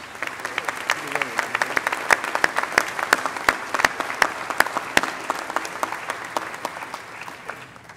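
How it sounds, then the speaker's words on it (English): Steady applause rises from the audience at a spring college commencement ceremony, a dense field of moderate clapping that keeps going for the whole stretch without letting up. "Please, round of applause for the Platform Party and Representative Alan Andrews."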